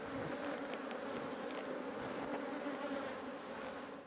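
Honey bees drone steadily around an opened beehive box after smoking, a continuous close buzzing hum with a few louder individual bees passing by.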